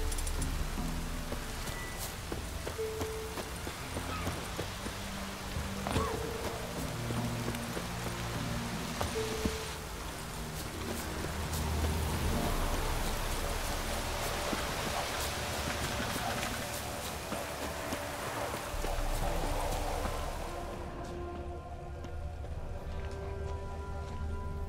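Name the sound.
rain downpour in The Witcher 3 video game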